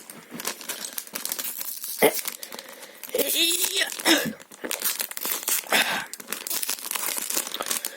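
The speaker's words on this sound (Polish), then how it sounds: "Otwieramy." Plastic wrapping crinkling and tearing as a magazine package holding a toy figure is opened, close and continuous rustling with a sharp rip partway through, while a voice talks intermittently.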